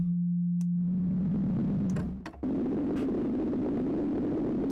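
A steady Rob Papen BIT-2 synth tone hums alone, then pink noise modulates the oscillator pitch into a noisy, jittering pitch that wobbles randomly, sounding rough and gritty until the end.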